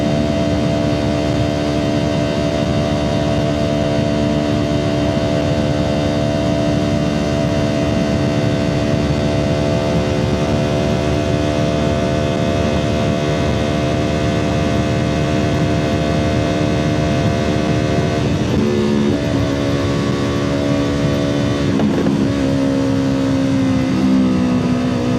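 Motorcycle engine droning steadily throughout a ride home, a constant loud hum with layered engine tones that dip and shift near the end as the gear changes.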